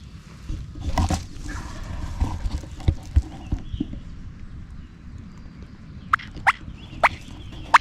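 Soft, scattered clucks from a wild turkey hen over a spring outdoor ambience in Pennsylvania, with a few sharper calls standing out near the end.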